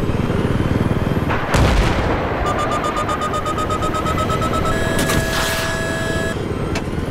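A TV-guided missile explodes in Battlefield 3 gameplay with a loud, close boom, then steady gunfire and the rumble of battle, with electronic warning tones beeping through the rest of the fight.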